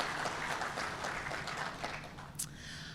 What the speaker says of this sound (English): So round of applause for RASC Kingston.